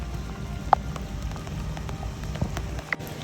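Heavy guerrilla downpour at a riverside fishing spot in Kazo, Saitama, a steady broad rain hiss with a few sharp drop hits, heard from shelter nearby, no voices.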